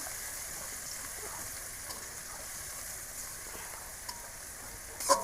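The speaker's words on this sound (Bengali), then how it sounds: "রসুন একটু ভাজা নেব তারপরে শাক দিয়ে দেবো" Garlic frying in oil in a village kitchen before water spinach goes in, a soft steady sizzle heard close and fairly quiet, with a few light clicks and a brief knock at the end.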